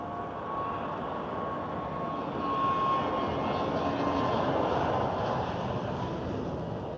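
An airplane accelerates for takeoff at Lisbon airport, a broad, loud engine roar that swells gradually and holds steady across the stretch, heard from a distance without talk.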